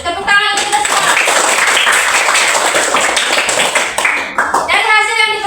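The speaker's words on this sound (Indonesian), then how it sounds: "Tepuk tangan untuk kita semua." Students in a classroom clap together, a loud, close, continuous burst of hand clapping lasting around four seconds, with quieter moments at the start and end.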